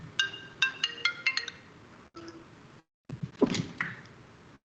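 An iPad ringtone goes off in a quiet board meeting room, a rapid run of bright chiming tones near the start, then a brief pause before scattered clinking and shuffling sounds.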